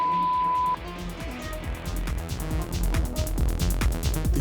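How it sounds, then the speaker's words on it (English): An acid techno pattern from a Shakmat Ballista Blast Eurorack module begins after a brief test tone, with rapid repeating percussive hits and squelchy synth notes in a tight, steady rhythm. "I am of course talking about the Shakmat's Ballista Blast. This is a Eurorack module made by Belgians, by Shakmat."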